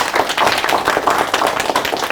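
Audience clapping for a professor at a public lecture, a dense, steady patter of many hands close and loud, with no talk over it.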